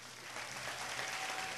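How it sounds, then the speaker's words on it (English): Faint audience applause for volunteers at a talent show aboard the Carnival Ecstasy cruise ship, a brief distant patter of clapping throughout. "let's give our volunteers a nice round of applause"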